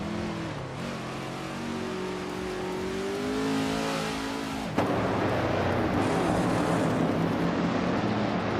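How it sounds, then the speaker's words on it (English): A 1971 Dodge Charger Super B muscle car engine in a racing video game, revving loud and rising in pitch, then a sudden shift to a dense roaring drone as other race cars blend in, no talk. "Zechty Cross is driving a 1971 Dodge Charger Super B, a classic muscle car known for its raw power"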